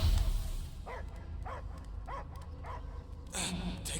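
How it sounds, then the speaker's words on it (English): Dog barking in the Guardians of the Galaxy video game: several short barks roughly evenly spaced and mid-distance, set over a steady game ambience and low rumble. "I hear only barking"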